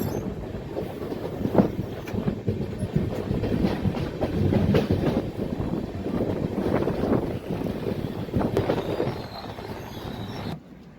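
Devagiri Express train at Navi Peth railway station, a loud close rumble of rolling carriages with rhythmic wheel clatter and occasional squeals, steady throughout and heard alone.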